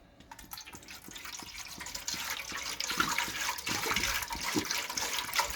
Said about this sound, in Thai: เอาก็ใส่น้ำปลาเลยครับ